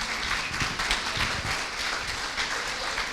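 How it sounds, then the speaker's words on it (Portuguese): A church congregation at a Sunday evening service applauds, a dense wash of clapping from many hands, steady and fairly loud throughout with no speech over it. "Dê um aplauso ao Senhor"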